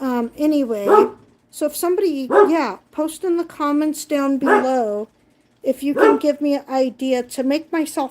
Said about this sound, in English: Sorry for the dogs again. They're barking because they heard a car horn.